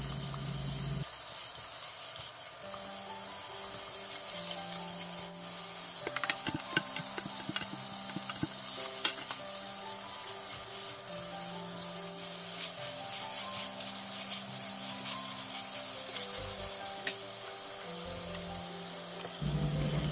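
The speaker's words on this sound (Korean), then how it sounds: "올리브유를 두르고 베이컨과 야채를 볶아줍니다." Bacon and vegetables stir-fry in olive oil in a pan, a steady close sizzle with faint scraping and clinks, under quiet background music and no voices.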